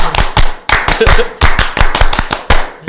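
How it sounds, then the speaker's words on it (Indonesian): Sharp rhythmic Pramuka scout clapping in a recording-studio session, a patterned sequence of loud, close hand claps in quick groups separated by short pauses, repeated several times without any talking. "Tepuk pramuka."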